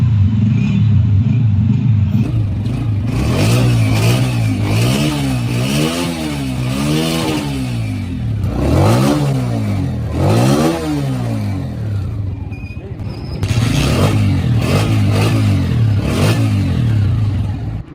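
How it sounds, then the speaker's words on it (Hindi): A motorcycle starts on its first kick and its engine is revved repeatedly, rising and falling in loud close sweeps over a steady idle. "उस्ताद ने बाइक को किक मारी और बाइक पहली किक पे स्टार्ट हो गया।"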